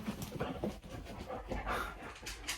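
A dog pants steadily close by, with soft rhythmic breathing and a faint whimper running through the whole stretch of a quiet room.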